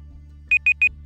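A Google countdown timer alarm goes off with three quick identical high beeps in an even rhythm, clear and close over a low steady hum.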